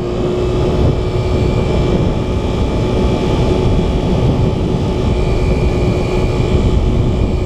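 Kymco scooter engine at full throttle, a loud, steady, close-up buzzing drone with a constant tone and wind rush, heard alone without talk.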